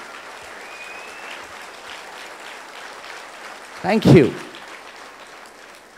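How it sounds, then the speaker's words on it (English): A school day audience applauds a student as a steady, even wash of clapping, and a voice briefly speaks over it midway. "Please give her a big round of applause."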